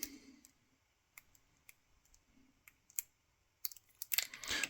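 Several faint, sparse clicks from a Sandman advanced lock pick setting pins in a tight lock, each a tiny crisp tick in near silence, with a slightly busier cluster of clicks near the end.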